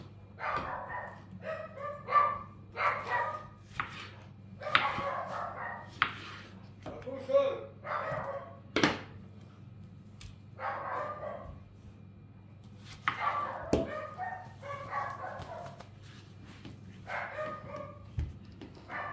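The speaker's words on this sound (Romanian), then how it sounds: "Deci ca să auziți și voi ce gălăgie și cât latră câinii al lui vecin, tătă ziua latră" Neighbour's dogs bark repeatedly in clusters of yaps and woofs, somewhat distant, among a low steady hum and occasional sharp kitchen knocks.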